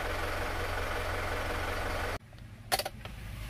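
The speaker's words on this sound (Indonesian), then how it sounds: "Asap knalpot, kondisi mesin masih dingin." Steady low rumble of a cold Suzuki Panther automatic car engine idling close by, cutting out abruptly partway through, followed by a few short clunks and quieter hum.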